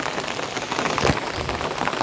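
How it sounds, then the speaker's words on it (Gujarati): Steady rain pattering on a surface, a dense even hiss of drops with no voices. "પાછા વરસાદ ચાલુ થઈ ગયો"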